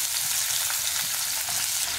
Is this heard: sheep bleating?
no